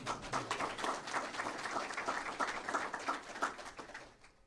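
Applause from an audience at a Florida government press event, a dense steady patter of many hands clapping at moderate volume for several seconds, trailing off at the end.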